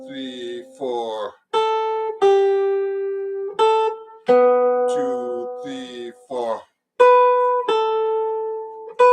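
A jazz guitar picks out the melody of a standard at a slow ballad pace after a spoken count-in, playing clear single notes that ring and sustain with short gaps between phrases.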